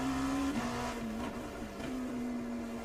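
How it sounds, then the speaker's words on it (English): An LMP2 prototype race car engine in iRacing held at its rev limit, producing a steady, loud, buzzing drone that dips and chirps as it bounces off the limiter, heard up close with no talk. "The other thing I listen for as well is the chirping noise of the engine."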